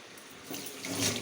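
Water gushes as a motor pump fills an empty overhead tank at home, a close, hissing stream that swells louder over a second or so, with no voices.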